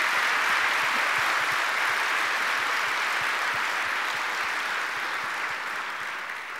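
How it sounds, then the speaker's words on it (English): Audience applause for Turing Award speakers at an ACM A.M. Turing Award event, steady dense clapping from a large crowd that holds throughout and tapers slightly at the end. "let's give Jan and Jeff a round of applause for an amazing talk"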